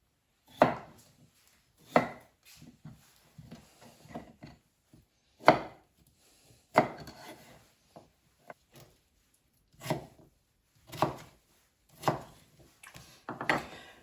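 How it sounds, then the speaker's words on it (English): A knife dices potatoes on a cutting board in sharp, spaced strikes with softer scraping taps between, close up and fairly quiet, no voices. "we can prepare the potatoes by slicing and chopping into small dice"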